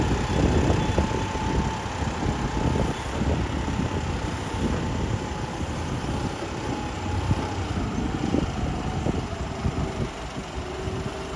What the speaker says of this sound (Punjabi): ਪੈਂਦਾ ਜਾ ਰਿਹਾ ਟਰੈਕਟਰ